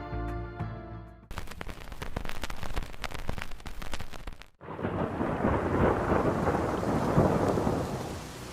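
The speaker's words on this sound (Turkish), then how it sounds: "Bu sırada şiddetli bir yağmur başlamıştı" Heavy rain and thunder as a downpour opens over northern Thailand near the Tham Luang cave: a deep rumble rolls through the opening seconds, then a dense, steady roar of rain takes over, close and loud.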